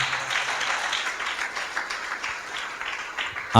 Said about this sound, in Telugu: అందరం చప్పట్లు కూడా దేవుని స్తుతించి